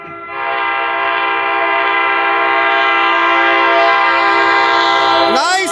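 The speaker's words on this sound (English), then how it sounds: "Nice horn!" An NJ Transit Bombardier ALP-45DP locomotive sounds a loud, sustained horn chord that holds steady for about five seconds, close by, then cuts off abruptly.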